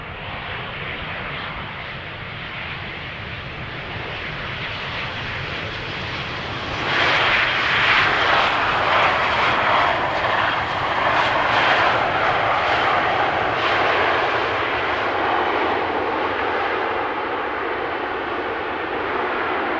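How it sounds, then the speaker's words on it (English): Airliners arriving on runway 18R, the Polderbaan, at Amsterdam Schiphol Airport: a distant jet engine roar that swells midway and holds as a plane passes, steady and broad with no talk. "I'm standing alongside the polderbaan to show you some arrivals taking place this morning."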